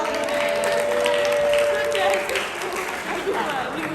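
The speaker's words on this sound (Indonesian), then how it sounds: "Ya tepuk tangan buat Iwan." Students at an anti-drug awareness session clap for a classmate, a fairly brief burst of crowd applause with voices and a faint tone running through it, thinning toward the end.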